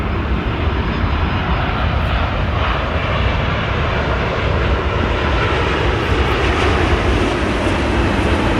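Qantas airliner landing on runway 16 right at Sydney Airport, a loud, sustained roar of jet engines filling the whole stretch at close range without a break.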